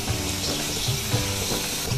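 Raw blended tomato puree fries in oil in a pan for dudhi kofta gravy, giving a loud, continuous sizzle with small bubbling pops and stirring scrapes close up.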